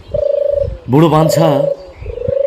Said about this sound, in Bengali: ঝিম ধরা দুপুরে ঘুঘু ডাকছে